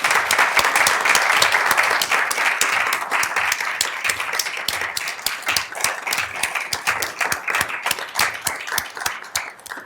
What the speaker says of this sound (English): I will start a round of applause.